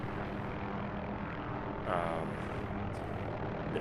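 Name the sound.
helicopter flying in DCS video game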